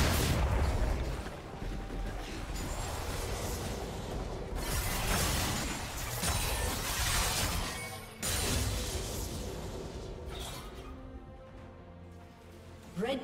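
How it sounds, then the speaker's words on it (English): Turret destruction in League of Legends, a Zed versus Karma mid-lane match, comes through as a dense, loud run of crashing booms and shattering bursts that lasts the whole stretch with a couple of sharper hits partway through. "Red team's turret has been destroyed."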